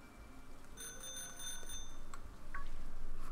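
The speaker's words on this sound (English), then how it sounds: "If we ring our bell enough at him" Bicycle bell ringing in the Pokémon Shield video game, several bright metallic rings with lingering tones over quiet game background sound, with no talk.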